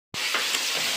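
Cauliflower curry fries in a pan, starting abruptly with a close, steady sizzle and hiss that holds for the rest of the moment, with no talking.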